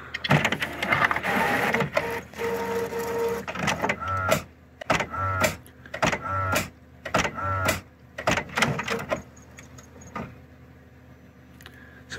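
An HP OfficeJet Pro 8610 inkjet printer calibrating whirs and clicks through repeated short bursts of mechanical motor movement, separated by brief pauses, fairly close and moderately loud.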